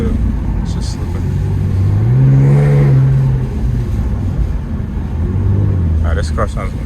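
An Infiniti Q50 with new intakes and downpipe on a night drive, its engine swelling into a deep, loud rev over a constant road rumble, heard from inside the car.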